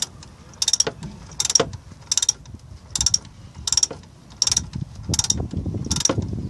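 A ratchet wrench tightens a nut on a Daewoo Matiz steering tie rod end. Eight evenly spaced bursts of close, loud clicking mark repeated back-and-forth strokes over a low background.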